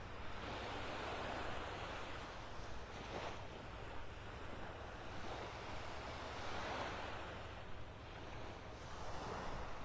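Ocean waves roll in with the incoming tide on a North Naples, Florida beach on a warm morning, a steady, loud wash of surf with surging swells and some wind rumble, no voices.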